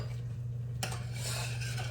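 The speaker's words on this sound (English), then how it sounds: "Stir my grits again." Metal spoon scraping and stirring through a pot of thick cooking grits, a steady close scratchy clatter that picks up after a quiet start over a low constant stove hum.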